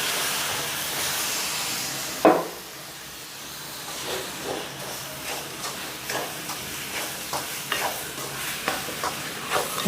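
A sugar and condensed milk mixture is stirred in a pan, with soft scraping strokes and a faint hiss. A sharp knock comes early, then rhythmic stirring scrapes repeat steadily at close range.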